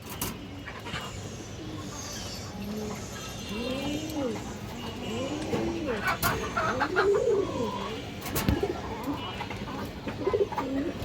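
Black Dobas pigeons, an old flying-line breed, coo in a loft with repeated soft rising-and-falling calls over steady background noise, with a couple of sharp knocks partway through.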